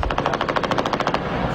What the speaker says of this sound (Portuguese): Já são 5 dias de troca de tiros.